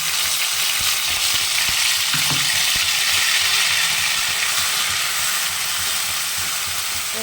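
A mustard-pumpkin paste with whole green chillies fries in mustard oil, a loud, dense, steady sizzle that holds throughout, close up, with one brief soft knock partway through.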